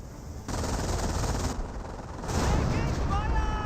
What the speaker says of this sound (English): Can't really advance forward until the M2 barrage is done firing away.